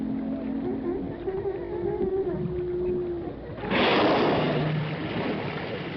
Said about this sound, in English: An underwater speaker was lowered to play back the whale songs they had already recorded.